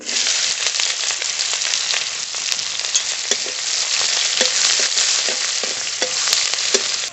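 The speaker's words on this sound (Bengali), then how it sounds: "পেঁয়াজটা হালকা করে ভেজে নিয়েছি" Chopped onion fries in oil with whole cumin seeds and a bay leaf, giving a continuous close sizzle broken by scattered clicks of stirring.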